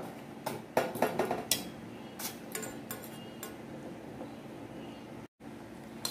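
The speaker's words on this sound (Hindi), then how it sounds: "चावल डाल दूंगी, ये जो मैंने धो के रखा था इसको डाल देंगे" Washed rice tipped into a pan for Chinese fried rice, giving a few close clinks and scraping taps of utensil on metal, sparse and uneven, then a quieter stretch.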